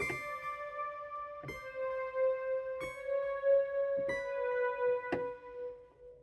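Layered synthesizer chords from a Roland Gaia SH-01, three tones mixed together, struck about five times, each sustained and ringing with rich harmonics, the last hit sharper, with no voices.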